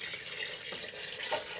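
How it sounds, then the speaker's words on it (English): Three cups of water poured into blackberry pie filling in a home kitchen, a steady, faint hissing stream running continuously without any talking. "Now we're going to go ahead and add our 3 cups of water."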